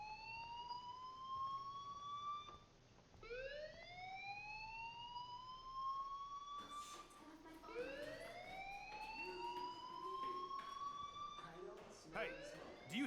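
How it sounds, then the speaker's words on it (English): An alarm in the Life is Strange video game, a rising electronic tone that repeats in swelling sweeps under a steady background hum and continues through the whole stretch, with no talking. "do you hear that fire alarm?"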